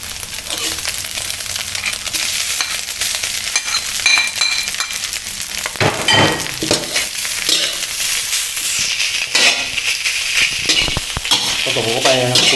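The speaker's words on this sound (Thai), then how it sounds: "พอผัดข้าวคลุกข้าวให้เข้ากันดีนะครับ" Chinese sausage fried rice being stir-fried in a pan, with a steady loud sizzle and frequent scraping and tossing of the spatula through the rice, no voices.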